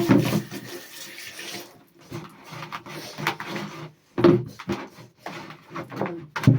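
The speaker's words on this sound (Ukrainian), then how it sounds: "беремо тазик, беремо нашу штуку, трохи змочуємо водою" Fabric being wetted with water in a basin before tie-dye bleaching, heard as intermittent sloshing and splashing water in short bursts separated by quiet gaps.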